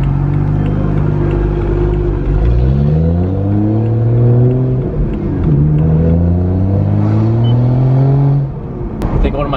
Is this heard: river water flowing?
no